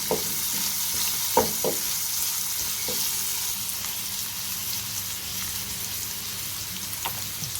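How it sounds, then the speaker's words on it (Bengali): Garlic and onion fry in a pan for a Bengali dal-and-taro dish, a steady dense sizzle filling the background with a few sharp stirring clinks and knocks scattered over it, close and continuous. "এটাকে এখন আমি ফ্রাই করবো রসুন দিয়ে দিয়েছি পেঁয়াজ দিয়ে দিয়েছি"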